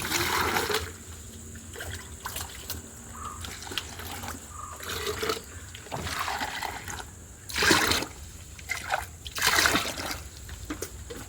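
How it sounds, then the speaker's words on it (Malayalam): Two litres of water poured into a container to mix a plant treatment for a kitchen-garden bean crop, heard as uneven trickling and splashing bursts that swell and fade, loudest near eight and ten seconds. "ഇതാ 2 ലിറ്റർ വെള്ളം ഒഴിച്ചു കൊടുത്തിട്ടുണ്ട്"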